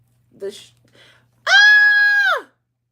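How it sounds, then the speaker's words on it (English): A single loud, sustained, high-pitched cartoonish scream lasting about a second and standing alone, preceded by a few faint, brief vocal sounds. "that was a very SpongeBob scream"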